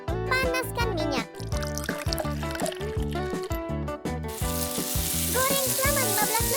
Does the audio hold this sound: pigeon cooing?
no